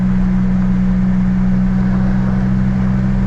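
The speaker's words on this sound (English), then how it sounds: "Nice little turbo surge," A 1986 Buick Grand National's turbocharged engine running on a hot day, a loud, steady low drone with a constant hum and no clear rise or fall.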